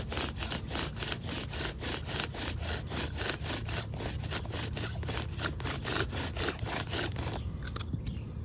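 A hand saw cuts back and forth through a crooked wooden spindle of yucca or mullein in steady rapid strokes, close and continuous, stopping just before the end.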